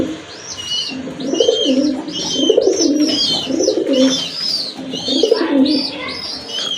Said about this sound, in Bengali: আরেক জোড়া কবুতর, আকাশি কালার ভিতরে গড়া কবুতর।